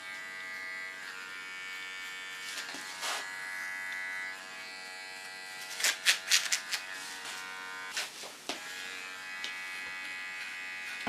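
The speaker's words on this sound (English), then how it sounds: "Now I clean the contour. Do it of course with my small clipper." Small electric hair clipper buzzing steadily close by while trimming the hairline contour of a punk hairstyle, with a few brief sharper bursts and crackles as it touches hair.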